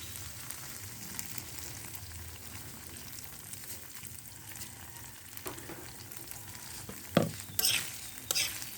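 Egg dropped into ampalaya (bitter melon) frying in a pan brings a soft steady sizzle, then a sharp burst near the end as the egg hits the hot oil, followed by brief louder crackles.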